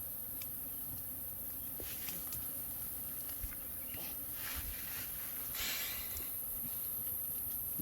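Bees swarm and drone inside a wild beehive hollowed into a baobab tree, a dense, steady buzz that stays close and continuous, swelling slightly in the second half.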